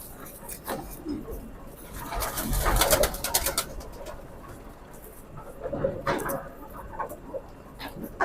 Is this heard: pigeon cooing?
yes